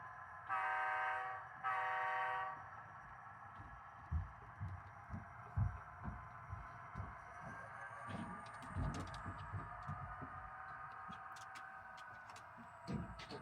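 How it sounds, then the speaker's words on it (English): A model railroad train horn on an Athearn layout gives two short toots close by, followed by quiet clicking and rumbling of the model train moving along the track. "It's not a train video without a couple of toots."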